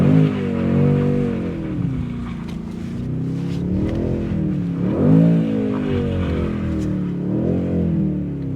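A Mercedes-AMG C63s engine revving hard while the car is stuck and bogging down in snow, loud and close, its pitch rising and falling in repeated surges with wheels spinning.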